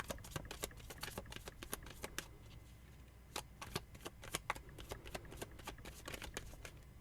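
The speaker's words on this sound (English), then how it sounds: "That's my shuffling." Tarot cards are shuffled by hand in quick riffling bursts, with crisp repeated snaps and brief pauses between rounds, close and fairly quiet.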